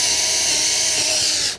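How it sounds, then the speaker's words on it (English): Power drill boring through wood while setting up an ATV trailer, a steady loud whirring grind that runs without a break before cutting off abruptly at the end. "I'm only drilling through wood"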